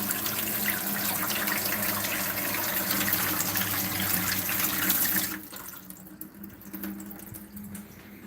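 Water rushes steadily through an Aqueon water changer hose as a cichlid fish tank is drained, a loud continuous gushing that drops to a quieter trickle partway through.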